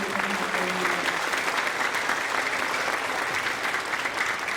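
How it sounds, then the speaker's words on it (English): Steady, dense applause from a large crowd, continuous and even throughout with no pauses. "So huge round of applause to all of our staff members."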